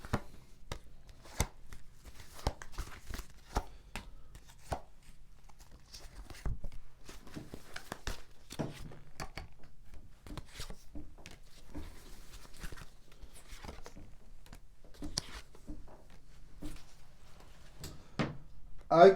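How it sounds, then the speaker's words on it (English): Tarot cards shuffled and laid down on a table, soft irregular riffles, flicks and taps close by at low level, with a voice talking at times. "So I'll give the cards a good shuffle, and then lay down your cards on the table in front of me."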